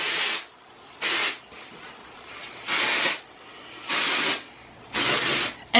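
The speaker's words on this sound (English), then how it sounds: "So I just pick my hair up and I spray it like I would a hairspray." Five sharp hissing bursts of a hair texture spray sprayed onto hair, each about half a second, evenly spaced with short pauses between, close and fairly loud.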